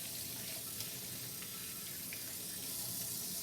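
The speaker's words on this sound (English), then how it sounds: "then I just rinse off the suds with tap water." Tap water runs steadily over celery stalks at a kitchen sink, a continuous close splashing hiss that holds level without pause.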